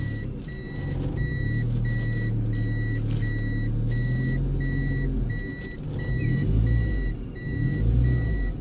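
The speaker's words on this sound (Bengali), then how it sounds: "আবার পিছনে রিভার্সে দিলাম" A car stuck in mud is put into reverse, with a steady low engine rumble that rises and falls and a regular series of electronic reversing beeps repeating throughout.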